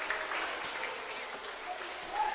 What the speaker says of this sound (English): He gets a round of applause from the fans at home.